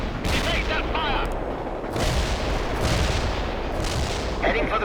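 Gunfire and artillery rumble through a World in Conflict battle, dense crackling volleys and heavy booms rolling continuously with louder bursts, radio-style voices talking over the combat.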